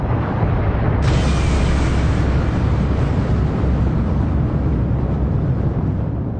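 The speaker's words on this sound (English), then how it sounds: "The outer layers of the star slam down into it, and a huge explosion is generated." A huge supernova explosion sound effect, the collapsing iron core of a star struck by its outer layers, renders as a dense, sustained roar with a bright burst after the first second, loud and unbroken throughout.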